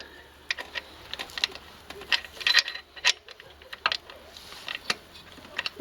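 Ratchet bar turning a socket on the alternator pulley of a Mercedes-Benz W203 C230 Kompressor, giving quiet, irregular clicks and short metallic ticks spread over a few seconds in a calm workshop.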